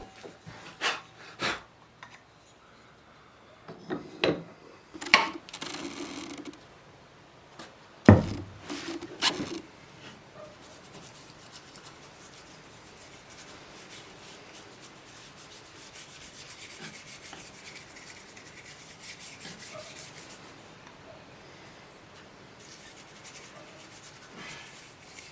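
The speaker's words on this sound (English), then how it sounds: "I give them a bit of a sand with some 180 sandpaper just to tidy up the little fluffy bits" Wooden pot holders are hand sanded with 180 grit sandpaper: a few louder knocks and scuffs at the start, then a long, steady, soft rubbing scratch continuing to the end.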